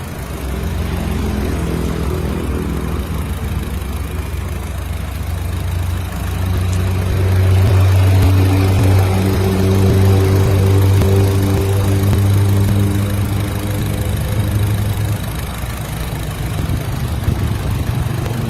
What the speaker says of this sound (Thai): ฟังเสียงเครื่องเพาะๆกันหน่อยค่ะ